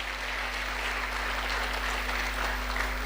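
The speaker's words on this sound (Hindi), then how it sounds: "गुरुजी के लिए एक बार जोरदार ताली बजाइए।" An audience gives steady, sustained applause for a guru, continuous clapping at moderate distance with a faint electrical hum underneath.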